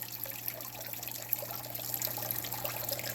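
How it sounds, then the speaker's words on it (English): Water from an aquarium waterfall pump splashing onto a rock, a continuous close trickle and spatter over a steady low hum. "So even with that reduced flow of water, we're still getting water hitting right on that rock."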